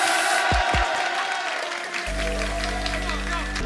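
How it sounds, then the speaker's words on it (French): An esports arena crowd cheers and applauds for a League of Legends top laner from the KC team, a loud continuous wash of clapping and shouting, with a deep sustained tone joining in halfway through. "Je vous demande de faire un tonnerre d'applaudissements pour Kana"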